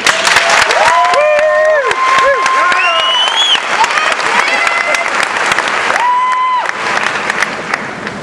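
Graduation audience applauds and cheers loudly for valedictorian Daniel Savage, sustained clapping with whoops and shouts layered over it, easing slightly toward the end.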